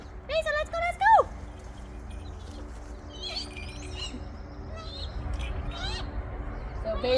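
A captive bird of prey at a raptor centre on Vancouver Island gives a few sharp, rising chirps near the start, then fainter calls follow over outdoor background noise while people talk nearby.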